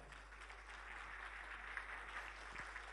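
An audience at a Tokat newspaper's tenth-anniversary event applauds steadily to welcome a speaker, a continuous patter of clapping at moderate distance with a low hum underneath.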